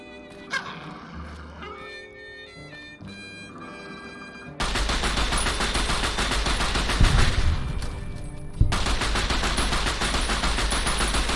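Dog gun fire in Fallout: New Vegas, using the 9mm pistol's gunshot sound, comes in a dense, loud barrage of cracks over game background noise after a quieter musical lead-in.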